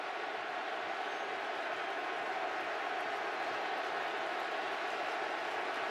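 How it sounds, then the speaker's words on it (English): Football stadium crowd during a Cardinals vs. 49ers game, a steady, distant roar of many voices cheering and murmuring, continuous and even without distinct peaks. "listen to this crowd"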